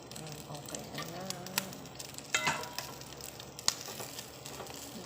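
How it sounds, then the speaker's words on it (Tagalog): Pork sisig sizzling as it is grilled in a pan, a continuous crackling hiss with sharper pops and spatters at intervals, close up and without talk. "ihawin natin ng bahagya kasi para yung lasa niya na inihaw nando doon"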